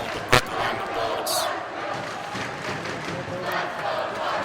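A home crowd at a varsity boys hockey playoff game roars after a goal, a sustained wash of cheering and shouting with a brief sharp burst near the start, loud and continuous throughout.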